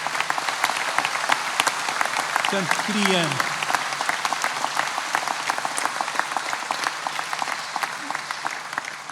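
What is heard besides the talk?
audience applause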